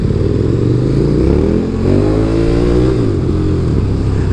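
A KTM Super Duke 1290 R motorcycle engine revs loudly and close, its deep throbbing tone rising and falling in pitch over a few seconds with a brief dip midway, and no voices.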